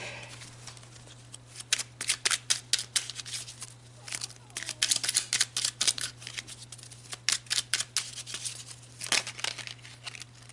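Small, slick oracle cards shuffled repeatedly by hand, giving a long series of sharp riffling and snapping bursts, close-up over a low steady hum, with no speech.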